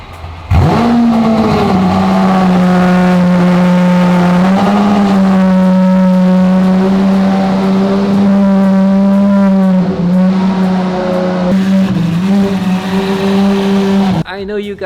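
A loud, close Lamborghini engine revs up sharply, holds a deep, droning roar with small pitch swells, then cuts off abruptly near the end.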